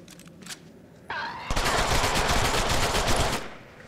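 Gunfire in the Deadpool video game: a couple of short shots, then a sustained loud burst of rapid automatic fire lasting about two seconds before cutting off, with faint talk beneath.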